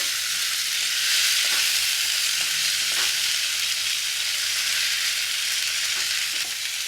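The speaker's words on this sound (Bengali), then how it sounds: "এর মধ্যে টমেটোর কুচিটা দিয়ে দিলাম এবার এগুলো দিয়ে আমি একটু ভালো করে ভেজে নেবো" Chopped tomato and onions fry in a pan with a dense, even, loud sizzle that holds steady throughout, with faint occasional stirring taps beneath.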